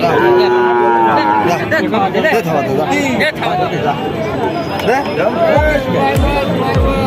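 Several cattle moo repeatedly over a noisy crowd of chattering voices at a cattle market in Sharsha, Jessore, with people talking close by throughout.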